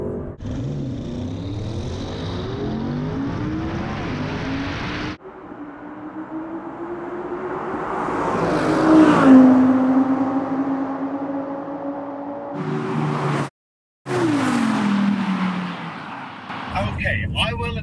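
A 2020 Audi RS6 Avant accelerates hard in a drag race, its engine note climbing steadily over several seconds before a brief cut. Voices talk around the engine at moderate distance.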